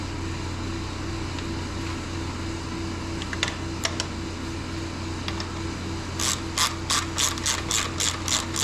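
A ratchet clicks as a bolt is tightened on a Honda TRX450R ATV, with a few scattered clicks early on, then a quick run of about eight loud, close, evenly spaced clicks toward the end over a steady low hum.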